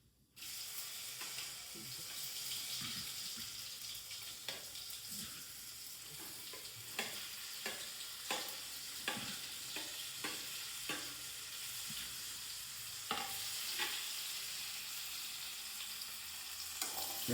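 Steady sizzle of potatoes frying in a pan, with repeated scraping clicks as they are stirred; continuous and fairly close, no talking.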